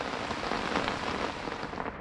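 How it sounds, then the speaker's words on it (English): Steady rain pours down at a campsite on a rainy canoe trip between Long Lake and Tupper Lake, a dense, even hiss of drops drumming on surfaces without pause. "this rain is still continuing to come down here"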